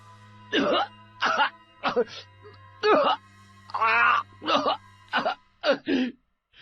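A man coughs repeatedly in harsh, wet bursts, about ten close spasms in an uneven rhythm with a steady low hum beneath.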